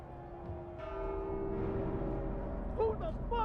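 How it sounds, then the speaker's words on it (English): A bell ringing in The Walking Dead: Saints & Sinners, a sustained metallic tone swelling and lingering over low rumble, with a voice speaking briefly near the end. "Who the fuck rang the bell?"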